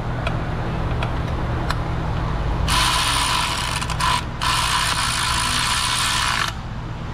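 Ratchet tightening bolts on a transmission bracket of a 4L60E, a fast continuous clicking burst lasting a few seconds with a short pause, close by over a low background hum.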